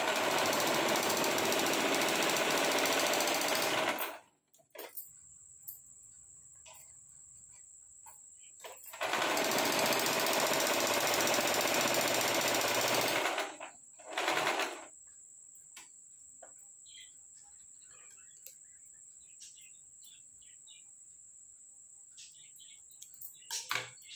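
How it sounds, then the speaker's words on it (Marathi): An electric sewing machine stitches the open side of a velvet fabric scrunchie in two loud, steady whirring runs with quiet pauses and faint handling sounds between. "आता ही जी ओपन बाजू आहे ती आपण आता शिवून घेऊयात।"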